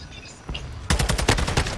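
Loud gunfire in Call of Duty Modern Warfare II, a quick run of close, punchy shots firing in rapid succession after a brief quieter lead-in.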